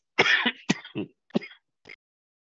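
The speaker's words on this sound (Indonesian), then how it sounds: "Maaf, masih batuk, saya belum sembuh." A few short, raspy coughs or throat-clearing bursts from a lecturer still recovering from illness, close and fairly loud, with brief pauses between them and no speech.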